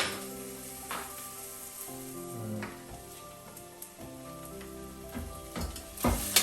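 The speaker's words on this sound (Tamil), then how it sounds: "இது ஒரு நிமிஷம் வதங்கட்டும்" Ingredients for a mutton chops masala paste sizzle steadily in a hot pan, a continuous close frying hiss with faint stirring scrapes and background tones.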